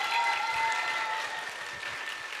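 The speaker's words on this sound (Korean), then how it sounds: "나오셔서 박수로, 뜨거운 박수로 환영해 모시기 바랍니다" A church congregation applauds to welcome a worship leader, a soft, fairly distant wash of many hands clapping that holds steady and fades slightly toward the end, with faint murmuring beneath.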